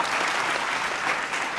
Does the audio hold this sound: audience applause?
yes